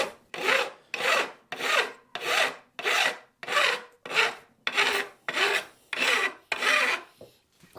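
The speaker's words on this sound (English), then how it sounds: "I'm just going to take the same file and just put the initial bevel onto these" A metal file bevels the fret ends on a thinline bass guitar neck, about eleven steady rasping strokes in an even rhythm, close and fairly loud with short gaps between passes.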